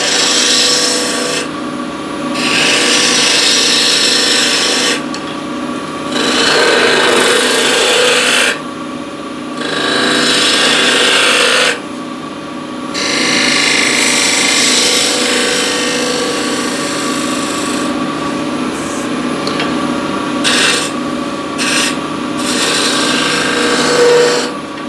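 A woodturning scraper with a shallow flute cuts spinning wood on a lathe, making loud raspy scraping in repeated passes broken by brief pauses, over a steady motor hum.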